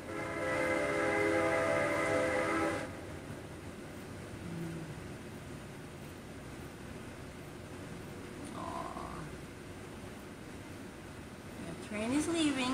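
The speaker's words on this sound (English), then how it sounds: "The train is leaving." A train rumbles past in the distance with a steady low roar, a brief horn blast at the start and faint higher tones near the end.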